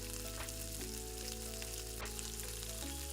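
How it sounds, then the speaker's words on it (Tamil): Spices, ginger, pepper, cumin, green chili and curry leaves sizzle in hot oil for a pongal tempering, a steady dense frying crackle throughout, close and even, with no voices. "போட்டு கொஞ்சோண்டு பெருங்காயத்தூளையும் அதோடு சேர்த்து அதில் கொஞ்சம் நறுக்கி வச்சிருந்த கருவேப்பிலையும் சேர்த்து தாளிக்கணும்."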